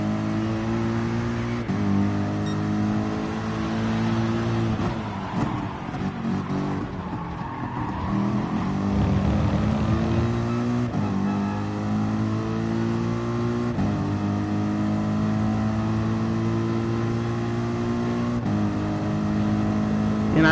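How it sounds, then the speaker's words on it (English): Gr.3 GT race cars in the Gran Turismo Sport video game during an FIA sprint race: a loud, sustained engine drone with gear shifts and rising revs, plus brief tire squeal as a rival car overtakes. "Speed Racer Ray overtaking us"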